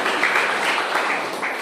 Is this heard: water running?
no